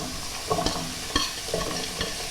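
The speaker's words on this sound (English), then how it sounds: "So we place the peppers into the pan" Peppers sizzling in a generous amount of oil in a frying pan with drained rice, a close steady crackle broken by a few sharp stirring scrapes, heard without any talking.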